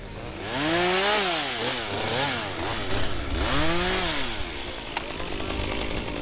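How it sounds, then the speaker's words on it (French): Chainsaws prune trees along a forest track cleared for wildfire prevention, a loud, close engine buzz revving up and down repeatedly over several seconds against steady outdoor noise. "équipés de débroussailleuses et de tronçonneuses pour élaguer les arbres"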